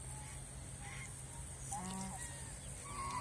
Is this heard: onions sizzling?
no